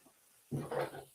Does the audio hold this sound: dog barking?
yes